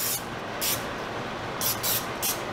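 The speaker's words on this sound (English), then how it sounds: "So we'll use Pam for this." Pam cooking spray hisses in several short bursts against the sides of a baking dish for baked ziti, close and fairly loud over a constant background rush.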